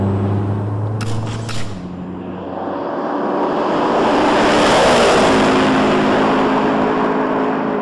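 McLaren XP beta prototype cars testing at the Idiada proving ground: a loud, sustained engine roar that swells as a car approaches and passes close by, with no talk.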